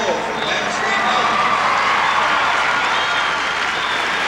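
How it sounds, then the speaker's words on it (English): An arena crowd at a 1989 gymnastics meet applauds a posted score with sustained, even clapping and some cheering, steady throughout. "the crowd applauded"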